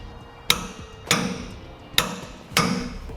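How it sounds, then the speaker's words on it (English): A torque wrench tightening the nut on a Curt Double Lock flip-and-store gooseneck hitch gives four sharp metallic clicks, evenly spaced about half a second apart, each ringing briefly, close to the mic with no talking. "then we'll use a torque wrench to torque the nut on the back side"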